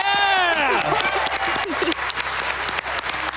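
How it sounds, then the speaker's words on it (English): A crowd at a Games Done Quick speedrun marathon (SGDQ 2019) claps and cheers, with loud whoops and shouts rising over dense, continuous applause close by. "Hype in the crowd!"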